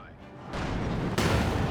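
SU-5 rocket artillery firing in the Company of Heroes 2 strategy game, a muffled low rumble that surges into a broad roar, then a second sharp burst near the end, all fairly quiet and distant.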